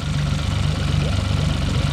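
A marine boat engine with a suspected cooling-circuit blockage idles steadily up close, a continuous low throbbing drone with even vibration and no break.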